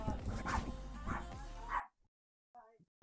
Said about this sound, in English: Yeah, seriously, dogs.